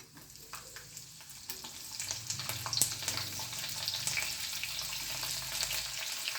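Onions and green chillies hitting hot oil with reddened peanuts for Maharashtra-style kanda poha, a close, crackling sizzle that swells and spits with sharp pops and stirring scrapes, no speech.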